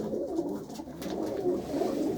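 Domestic pigeon, one of a pair of a red china cock and a white hen, giving a soft, close, throaty coo that rolls on steadily for about two seconds.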